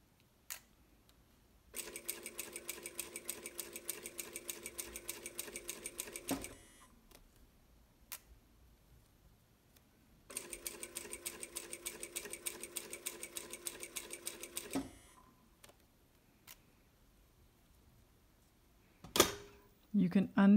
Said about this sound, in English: machine stitch right along this edge that you have pinned